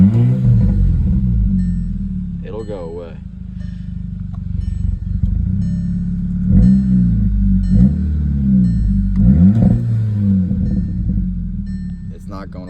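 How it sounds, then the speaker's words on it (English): Idling Volkswagen Eos engine, said to have a vacuum leak and misfires on every cylinder, rumbles steadily with a few brief rises in revs, close up, while people talk over it throughout. "But then I'll start revving it."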